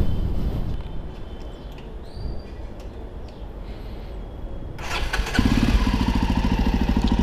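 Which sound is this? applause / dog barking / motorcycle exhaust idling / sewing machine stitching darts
motorcycle exhaust idling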